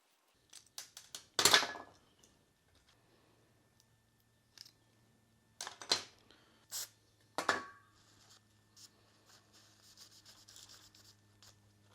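A brake bleeder tube's barb portion is cut off in a few sharp snips and clicks, with a loud cut early on and more spaced crunching cuts later, close and quiet otherwise.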